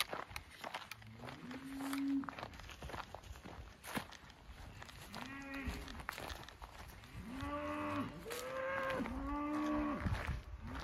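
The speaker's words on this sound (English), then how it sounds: "And now they're all getting up and walking this way because they're cows." A herd of cattle on a rural Camino de Invierno path in Galicia, Spain, lowing repeatedly in long, overlapping moos while hooves and footsteps shuffle nearby, the calls growing fuller and more frequent toward the end.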